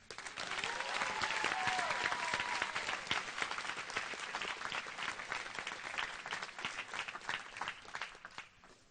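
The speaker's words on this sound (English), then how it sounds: "Fellow graduates, let's give all of our teachers, supporters, advisors, coaches, and parents a big round of applause." Sustained applause from a graduation audience at Guam High School, dense clapping from a large crowd with some whistles and cheers early on, steady for several seconds before thinning slightly toward the end.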